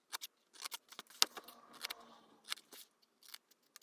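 Scissors snip through paper for a handmade Christmas card, a quiet close series of irregular crisp cuts and rustles.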